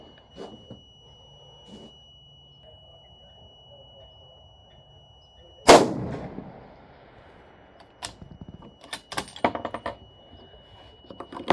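A .308 Remington 700 rifle fires a Hornady 178-grain AMAX handload. One loud, sharp shot breaks a quiet scene and trails off in a short echo, followed by scattered mechanical clicks and clatter.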